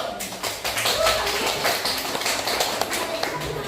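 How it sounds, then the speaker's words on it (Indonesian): Students in a classroom lesson give a short burst of clapping, a crisp, fairly close patter of several hands that thins out toward the end, with voices talking over it. "Oke, beri tepuk tangan dulu."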